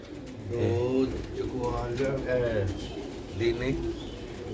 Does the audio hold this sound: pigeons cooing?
yes